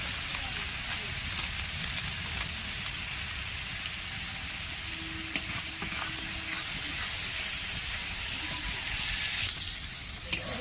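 Spice masala with chili powder and Kashmiri chili powder sizzling steadily in hot oil for a mutton curry, a continuous close frying hiss with a few small pops.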